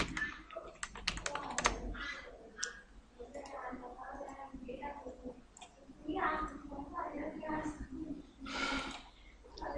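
Quick bursts of key clicks on a computer keyboard as a name is entered into an online birth certificate application form, rattling in short runs with pauses, close and clear, under soft talk.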